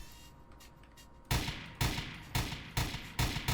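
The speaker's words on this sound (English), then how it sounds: "Now this isn't really the best sentry gun, but it does its job." A sentry gun in Garry's Mod fires five sharp, loud shots at a steady, deliberate pace after a quiet lead-in, each blast decaying quickly before the next.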